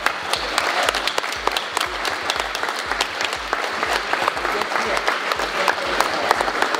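A crowd at a French Warhammer 40,000 tournament applauds a player, loud dense clapping from many hands, close and sustained throughout, with low thumps and a hum of voices mixed in.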